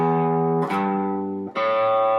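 A guitar plays a pentatonic scale from its lowest note upward, three sustained, clear notes each ringing out before the next is plucked, close and alone without speech.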